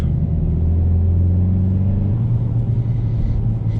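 A Volkswagen T-Roc R with a manual gearbox drones loudly and steadily from inside the cabin, the engine pitch holding and then dropping in a step as a gear changes.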